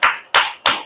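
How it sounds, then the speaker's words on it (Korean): Three sharp, loud, evenly spaced hand claps ring out close by during a church service. "하나님께 우리 영광의 박수 올려주세요"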